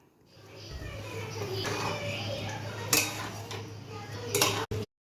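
A spatula scrapes and clinks against a pan as dum aloo with fresh cream is stirred and sautéed, close metallic scraping with a few sharper knocks over a low steady hum.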